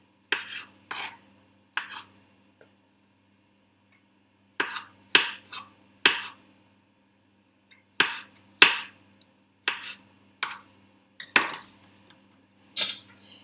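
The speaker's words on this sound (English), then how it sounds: "Chop them up quite small, although mushrooms do shrink quite a bit when you cook them." A knife chops close-cut mushrooms on a board in short, crisp bursts of several quick strokes, separated by pauses, close and clear against an otherwise quiet room.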